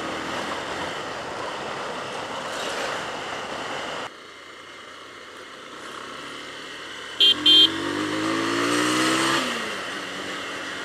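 Bajaj Pulsar 220 motorcycle ridden along roads near Pokhara, Nepal, a steady engine and wind roar with a shift in tone midway, a rising rev and a brief horn-like double beep near the end.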